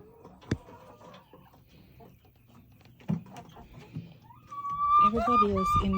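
Chickens in a backyard coop in Jamaica, clucking and calling nearby in scattered bursts that swell louder toward the end, mixed with a person's voice.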